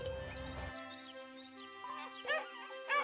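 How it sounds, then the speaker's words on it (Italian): A cartoon puppy gives a few short, high yips and barks near the end, following a stretch of light animated music and effects. "Il nostro cucciolo sta abbaiando e non è un sogno!"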